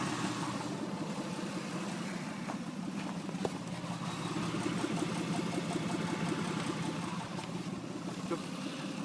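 Mitsubishi Pajero 3.5 V6 24V DOHC engine, code 6G72, idles with an even, low mechanical hum and a few light ticks, fairly quiet and unchanging throughout.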